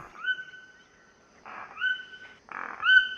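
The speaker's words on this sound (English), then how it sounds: "What's that? It's a toucan." A toucan call plays during a kindergarten graduation celebration: three croaky, tonal bird calls with rising harmonics, each beginning with a short raspy burst and separated by brief pauses, fairly clear and close.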